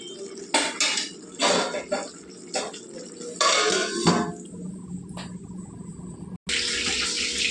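A pot lid and cookware clank and scrape on a stove while pulao cooks, with several distinct metallic knocks and rattles in uneven bursts, then a short gap before a steady hiss.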